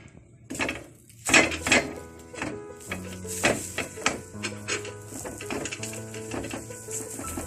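Dough laid into a frying pan for thyme-scented semolina harcha, with a few sharp clatters and knocks of the pan followed by repeated light taps and scrapes, close and fairly quiet, with no talk.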